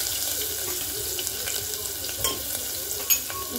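Ginger garlic paste added to hot oil after asafoetida, frying with a steady, fairly loud hiss and crackle that runs unbroken, with a couple of brief sharper spatters near the end.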